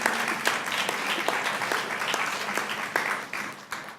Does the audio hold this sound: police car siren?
no